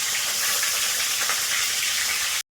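A salted, turmeric-rubbed catla fish head frying in a pan gives a steady, dense sizzle and crackle, close and continuous, ending abruptly.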